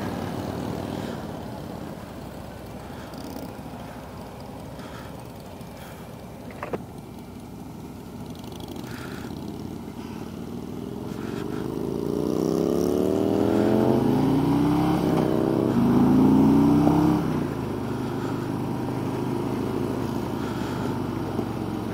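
A group of cruiser motorcycles and trikes sets off on a chapter ride on a cold day, engines rising from a low idle into a swelling, layered rumble as the bikes accelerate and pull away together.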